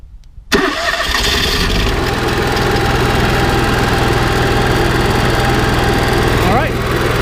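Cummins Onan 5500 RV generator with over 2,500 hours cranks briefly, then catches and settles into a loud, steady running drone that holds close and constant.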